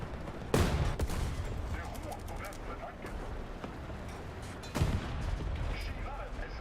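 Tank guns firing in War Thunder, two loud, sharp cannon blasts a few seconds apart over rumbling battle noise, with a voice talking now and then.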